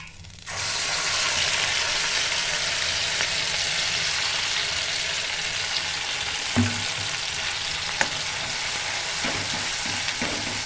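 Masala paste hitting hot butter in a pan for a dhaba-style Chicken Bharta, bursting into a loud, steady sizzle that holds throughout, broken by a few brief clinks and scrapes of stirring.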